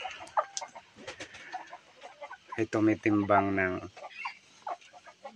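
Native chickens cluck and call while feeding, with short bursts and one longer rooster-like cry in the middle, under someone speaking in Filipino.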